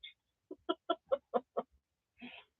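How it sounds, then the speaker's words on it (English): Chickens cluck in a quick series of about six short calls, then a drawn-out squawk, small and thin as if played through a phone speaker, with no talking over it. "Yeah, chickens."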